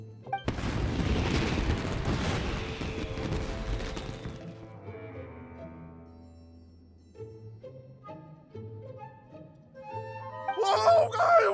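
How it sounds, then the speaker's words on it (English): Fireworks bursting in the video game Genshin Impact: a loud, dense crackling boom that roars for several seconds and then fades into soft melodic game music, with a brief sharp crackle flaring up again at the very end. "Euthymia, this is turning into a bit of a fireworks display."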